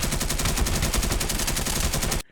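Rapid TT pistol gunfire in Escape From Tarkov, a dense unbroken string of loud, close shots lasting about two seconds before cutting off abruptly.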